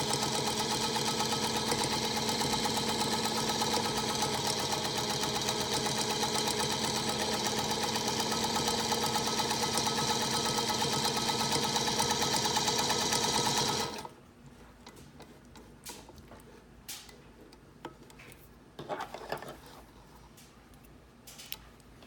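A sewing machine stitches fabric at a steady, fast whirring run for about fourteen seconds after the stitch length is changed, then stops abruptly, leaving only faint handling clicks and a few soft knocks.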